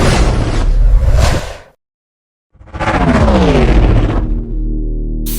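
A spaceship crash-lands with a heavy roaring whoosh and rumble, cut off by a sudden silence, then another loud descending roar that settles into a low steady hum.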